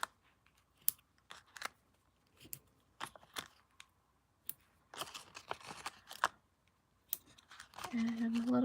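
Scissors trimming cardstock and paper pieces for a handmade Stampin' Up! summer card, a series of short, close snips and crisp cuts with pauses between, ending in a brief rustle of paper handling.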